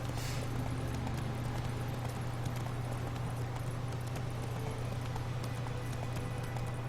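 Horse hooves galloping in The Witcher 3, a steady run of clip-clop beats over a constant low hum of game ambience, with no talking.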